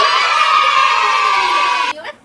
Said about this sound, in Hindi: तालियां अपने टीचर के लिए जोर से